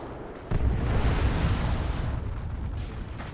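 A grenade goes off in the strategy game Warhammer 40,000: Dawn of War 2, a sudden heavy boom that rumbles on in a thick, rolling blast before slowly fading.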